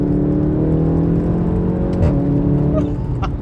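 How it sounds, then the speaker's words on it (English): A VW Golf 7.5 R exhaust drones steadily from inside the car, then pops and shifts pitch as the manual downshifts come through, loud and close with no talk. "That exhaust is insane, goodness me."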